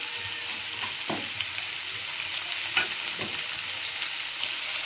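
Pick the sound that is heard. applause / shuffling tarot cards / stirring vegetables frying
stirring vegetables frying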